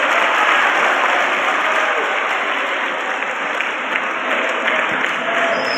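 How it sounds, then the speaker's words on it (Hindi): Loud, sustained applause from a large audience at a college career counselling event, dense and steady throughout, with faint crowd noise mixed in. "एक बार जोरदार ताली बजा सकते हैं।"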